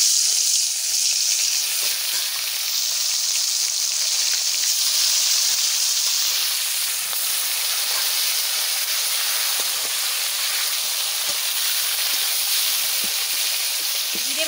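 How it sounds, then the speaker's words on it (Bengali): Pieces of kokari fish fry in smoking hot oil in a home kitchen, a loud, steady hiss and sizzle that holds evenly for the whole stretch with no talk. "এবারে মাছ ভাজা বসাই দিচ্ছি"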